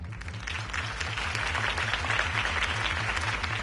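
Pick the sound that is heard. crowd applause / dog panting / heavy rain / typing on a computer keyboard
crowd applause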